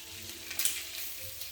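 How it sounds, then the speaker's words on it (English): Meat sizzles and crackles steadily as it fries in a pan, a soft continuous hiss with small pops, fairly quiet and close. "Lovely. I love that sizzle. It's cooking nicely there."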